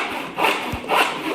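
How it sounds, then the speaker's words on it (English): A sawing sound effect from a sound pack in the audio game Blindfold Sound Search: two rasping back-and-forth saw strokes on wood, close and clear, with no talk. "Sawing."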